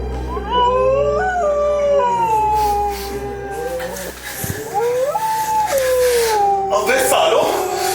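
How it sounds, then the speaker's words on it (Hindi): Several dogs howl in long, wavering, overlapping cries that rise and fall, loud and close, with a brief dip midway before the howling resumes. "आप उन कुत्तों को बोलिए चुप हो जाए बाबूजी। इनकी आवाज मुझे परेशान कर रही है"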